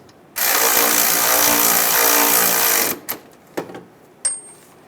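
Power tool driving bolts on a 1998-2010 Volkswagen Beetle thermostat housing: one loud, steady mechanical whir of about two and a half seconds, then a few short clicks and knocks of parts being handled.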